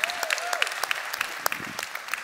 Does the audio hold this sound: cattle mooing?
no